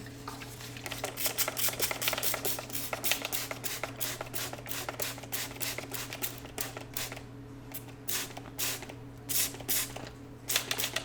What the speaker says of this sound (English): Let's go ahead and spray these down.